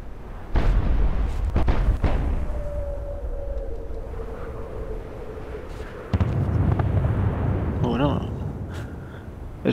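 Deep booming blasts and rumbling impacts from the PC game Mad Max, one sharp burst near the start and another heavy hit midway, with a sustained whooshing tone between.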